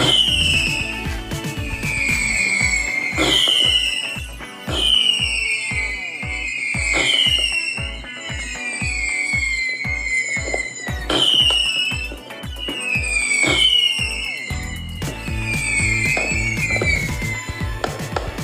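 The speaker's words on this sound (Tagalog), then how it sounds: "Ayan o, tatlong sipol siya mga idol." Whistling fireworks from a 50-shot cake shriek one after another in descending whistles, three at a time, each paired with popping bangs, loud and sustained over a steady barrage.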